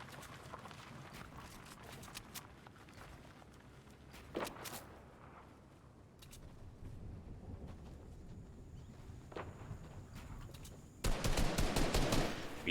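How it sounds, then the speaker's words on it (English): Gunshots in a Fortnite match: scattered faint shots pop over a low background, then a loud rapid burst erupts near the end. "We hear shots fired."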